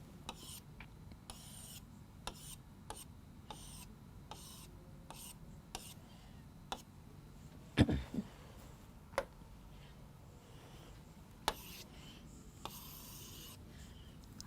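Writing is rubbed off a classroom board in faint, irregular scrubbing strokes with scattered light taps and knocks, quiet and close over a low room hiss.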